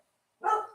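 A small dog gives a single short bark, close and moderately loud, after a moment of silence.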